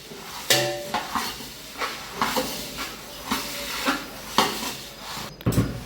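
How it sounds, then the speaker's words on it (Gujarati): Puffed rice (mamra) being stirred in a metal pot for sev mamra: a run of dry, rustling scrapes and clinks repeating roughly every second, close and clear, with no voices. "મમરા નાખાઈ જાય પછી તેને હલાવી નાખવાના, મિક્સ કરી નાખવાનું."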